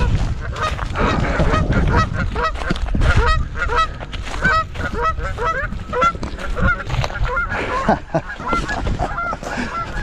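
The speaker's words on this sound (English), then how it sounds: "These geese act like they're in front of me on purpose." A flock of geese honks loudly and continuously, many overlapping calls close by, with no pause throughout.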